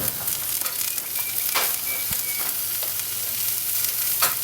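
Buttered hoagie rolls toast on a Weber Kettle Q grill with a steady, close hiss of sizzling fat, broken by a few faint pops and crackles throughout.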